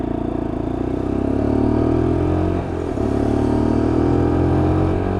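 A Lexmoto LXR Euro 5 motorcycle rides along at a steady cruising speed, its engine droning continuously with a slight pitch rise and a brief dip midway, loud and close with no talk.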